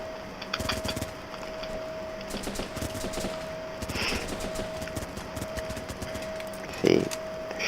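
Rapid gunfire crackles in the video game Running With Rifles, with bursts of rifle shots fairly faint under a steady tone and a player talking over it.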